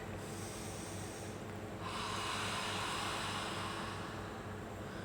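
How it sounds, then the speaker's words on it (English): Forceful fire-breath breathing exercise, a steady run of loud snorting exhalations and rushing breath through the nose, close and intense, with no speech. "What is the sound of fire that you can breathe, the breathing sound of fire?"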